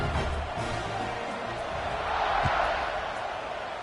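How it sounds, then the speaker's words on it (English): A football stadium crowd before kickoff makes a steady, loud roar of massed voices and cheering that swells slightly near the middle and continues throughout. "They're set to kick it off, and this crowd now ready to get behind them."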